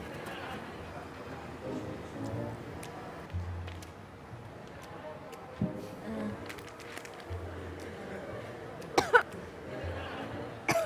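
Several close coughs from a person at a casual first-date chat, scattered among ongoing conversation and background room noise.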